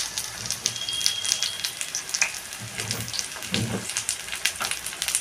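Masoor lentil fritters (piyaji) deep fry in hot oil, crackling and spitting in a dense, close sizzle with frequent sharp pops over a continuous bubbling hiss, and no voices.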